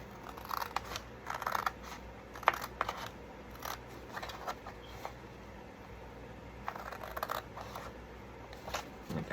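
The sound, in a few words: scissors cutting a FedEx envelope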